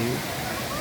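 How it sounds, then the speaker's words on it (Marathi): Water pours steadily over black rock at a waterfall in the Konkan region, a dense, close rushing hiss that continues unbroken through the brief moment. "जो धबधबा पाणीवरून पडताना दिसत आहे"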